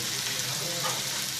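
Paaramkodi eggs frying in oil with ground masala of garlic and coriander being stirred in, a loud, close, continuous hissing sizzle with the faint scrape of stirring.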